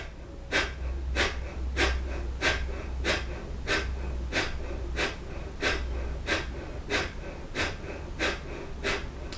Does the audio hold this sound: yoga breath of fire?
yes